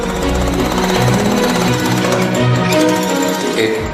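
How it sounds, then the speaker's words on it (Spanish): A pneumatic jackhammer pounding through a house under demolition, loud and close with a rapid continuous hammering rattle that runs without pause. "la demuestra con un martillo neumático o un bulldozer cuando destruye una casa"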